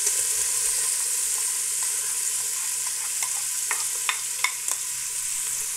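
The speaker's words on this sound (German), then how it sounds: "wenn ihr seht, dass er schon so ein kleines bisschen angebraten ist, dann gebt ihr gleich die Zwiebelwürfel mit hinzu" Bacon and diced onions frying in a pan, a loud steady sizzle throughout with occasional clacks and scrapes of stirring, close and alone without talk.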